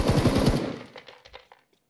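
Machine gun fire in a shooter game, a fast rattling burst of close, loud shots that cuts off into a few scattered trailing rounds and echoes fading to silence.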